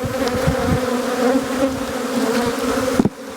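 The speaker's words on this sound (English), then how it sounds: "A lot of bees in the air." Honey bees buzz in the air around open hives in an Australian bee yard, a dense, close, continuous drone with a steady pitch that stays loud throughout and cuts off sharply near the end.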